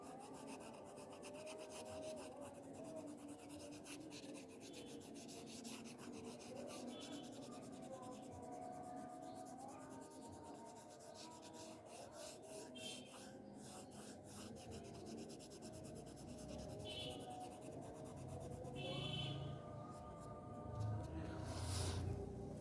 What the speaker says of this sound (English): we can put it on a background and draw the background with few strokes of crayon